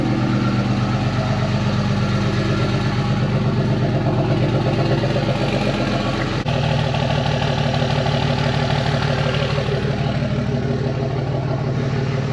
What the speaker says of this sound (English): Let me give you a sound of the exhaust.